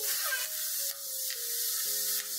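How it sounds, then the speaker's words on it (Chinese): Chicken legs fry in a pan as the first step of a beer-braised chicken dish, giving a steady close sizzle and hiss with a few soft shifts as pieces move, with no voices. "我哋先煎鸡髀先，煎到有色"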